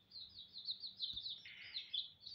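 Young dyed chicks in green, pink and yellow peeping in a coop, a continuous overlapping stream of high thin chirps, close and clear, with a faint low thump midway.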